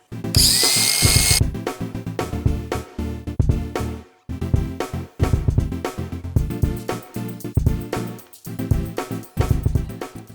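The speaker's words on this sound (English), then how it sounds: "use a zippy cutter and make this gap big enough to tight this clamp around the battery terminal" A zippy cutter grinds a battery terminal clamp for a Bobcat T185 skid steer, opening with a short shrill cut, then a series of loud rhythmic mechanical bursts and stops.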